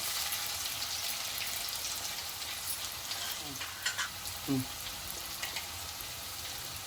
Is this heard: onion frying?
yes